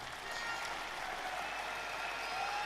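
Dense, continuous audience applause from a large crowd at a talk, steady and fairly loud throughout with no voices on top.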